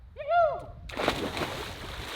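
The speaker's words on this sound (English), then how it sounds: "Time to get in the water." A single splash as a person drops into clear, fresh mountain-fed canyon water in Yemen, following a brief vocal exclamation; the splash then settles into ongoing sloshing and water noise.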